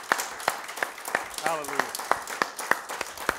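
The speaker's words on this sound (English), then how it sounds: "Give him a hand clap this morning." A congregation at a Sunday morning church service claps in a steady, rhythmic beat, sharp regular hand claps about every third of a second, with a voice calling out briefly partway through.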